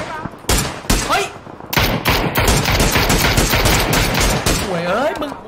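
Rapid gunfire in the battle royale game PUBG, loud bursts of automatic shots and single cracks crowding the whole stretch, with excited voices shouting over the shooting.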